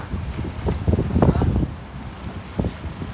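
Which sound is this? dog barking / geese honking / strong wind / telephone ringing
strong wind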